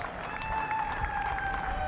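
At a Pakistan vs Afghanistan one-day international, a stadium crowd claps and cheers a half century in a steady, fairly distant wash of applause.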